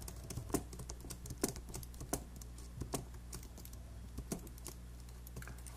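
Rapid, irregular clicks of typing on a computer keyboard, close and fairly quiet, with occasional louder key strikes against a low steady hum.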